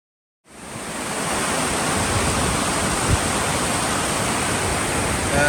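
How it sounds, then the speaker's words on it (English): A waterfall in the mountains along the Tour du Mont Blanc trail gives a loud, steady rush of falling water. The roar starts abruptly and holds without a break, with no voices. "Another amazing waterfall."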